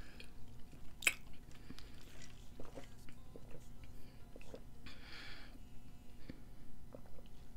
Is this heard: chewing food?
yes